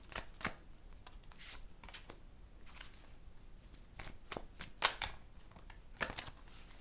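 Tarot cards shuffled and drawn from a deck, faint papery riffles and sharp snaps scattered irregularly, close and quiet.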